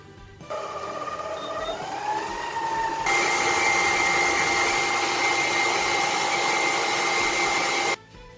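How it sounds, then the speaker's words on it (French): A stand mixer whisks chocolate ganache for a rolled praline hazelnut Christmas log, its motor whine starting low, rising in pitch, then jumping to a loud, steady high-speed drone before cutting off abruptly. "Je vais venir donc la battre quelques instants, donc jusqu'à ce qu'elle double de volume à peu près donc avec un fouet."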